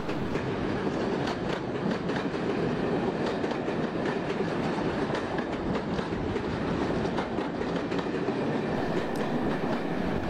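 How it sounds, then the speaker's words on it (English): A 1980s Class 86 electric locomotive hauls a Manchester-bound train of Mark I coaches out of London Euston, a continuous loud rumble with rapid, rhythmic wheel clicks running throughout and no voices. "another Class 86 leaves with 1H20, the 1700 to Manchester Piccadilly"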